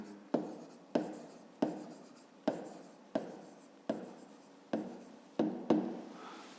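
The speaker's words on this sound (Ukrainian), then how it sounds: "Ну що ж, записуємо тоді" A pen writes on paper in a steady rhythm of about nine firm strokes, each starting with a crisp scratch that fades, close up and alone.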